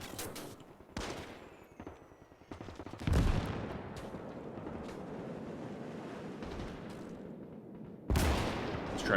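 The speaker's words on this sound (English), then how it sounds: "That's a Japanese gun right there. He's actually trying to hit this location." Japanese guns fire in a World War II Pacific battle game set on Saipan, sounding as sharp, loud bursts of gunfire over a rumbling, windy background, with several distinct blasts.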